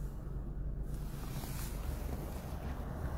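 Strong wind blows through a heavy snowstorm in Alberta, Canada, as a constant, loud, buffeting rush with no voices.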